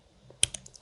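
A few soft computer keyboard clicks, one crisp press followed by lighter taps, quiet and close in an otherwise still room.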